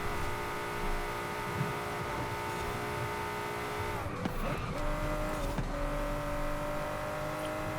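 High-powered race car in a Forza video game, a steady loud engine drone with a brief gear shift and a short scrub of tire noise near the middle, with no talking.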